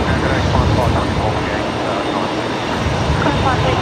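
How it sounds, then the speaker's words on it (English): A Fokker airliner's engine spooling up at Brisbane Airport, a broad steady roar heard at a distance with a faint voice underneath. "I can hear a Fokker on startup."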